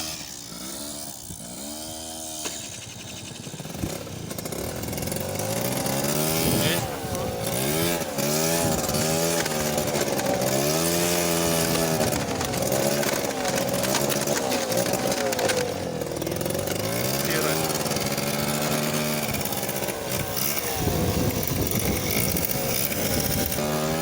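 A motorcycle ridden over a rough road, its engine droning loud and close with rising and falling revs, plus rattles and bumps from the uneven surface.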